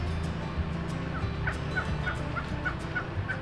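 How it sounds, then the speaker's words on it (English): Several wild turkeys gobble in a loose series of short, bubbling calls, moderately distant, over a low background rumble. "Oh, we got turkeys."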